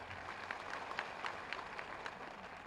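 Audience applause at a social gathering in Lucknow welcoming Sanghamitra, a steady wash of many hands clapping at moderate distance, fairly even throughout with a few sharper peaks and no talk over it.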